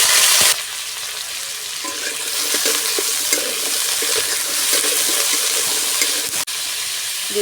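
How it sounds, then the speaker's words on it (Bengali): Panch phoron spices sizzle loudly in hot oil in a kadai, a dense, steady frying hiss that starts abruptly and carries on close up, with a brief dip near the end and no talk. "এবার কড়াইতে তেল দিয়ে দেব তরকারি রান্না করার জন্য। দিয়ে দেবো পাঁচফোড়ন"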